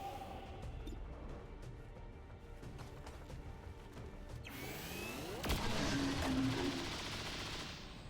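Gunfire rattles through an XCOM 2 battle, dense bursts and sharp shots piling up with a heavier blast midway, loud and continuous with no voices.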